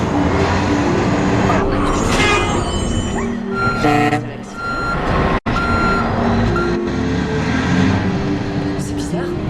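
A truck drives with reversing beeps sounding in the game Far Cry 5, the engine rumble and beeping steady and loud throughout, with talk over it.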